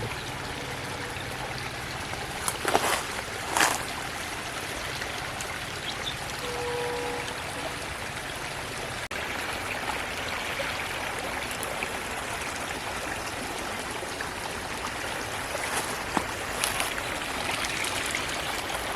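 Sewage water from a village drain flows and trickles steadily into a river for a long stretch, a continuous rushing pour with a few brief splashy bursts.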